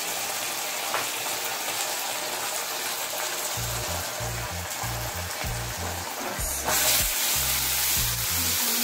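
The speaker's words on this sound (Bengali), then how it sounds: "একটু জল দিয়ে মশলাটাকে কষিয়ে দিচ্ছি" Masala of chili paste, cumin powder and turmeric fries with a splash of water in a pan, giving a steady, loud sizzling hiss throughout, with a low rhythmic thumping underneath.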